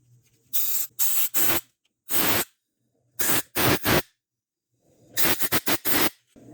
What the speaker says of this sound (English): Take some carb spray, put it down here, and then I'll spray this out here.